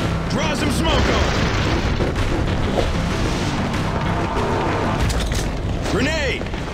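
A loud, dense grenade blast from the Crossfire X multiplayer shooter on Xbox Series X, with booming, rumbling debris that goes on for several seconds as voices shout over it.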